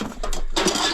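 Metal pots and pans clank and clink as they are handled at an estate auction, a few close, bright knocks in quick succession.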